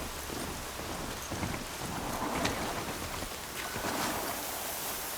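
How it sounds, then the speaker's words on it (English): Steady broadband rain pours down in Horizon Zero Dawn Remastered, a dense continuous hiss of drops with faint low rumbles underneath, holding even and fairly loud for the whole stretch with no voices. "Here comes the rain."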